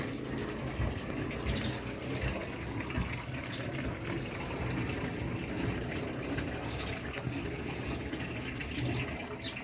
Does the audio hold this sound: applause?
no